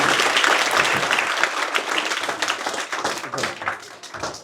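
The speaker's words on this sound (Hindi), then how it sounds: "ताली बजाओ उनके लिए।" An audience at a military school coaching institute claps loudly, a dense, sustained round of applause that slowly thins toward the end, with faint voices mixed in.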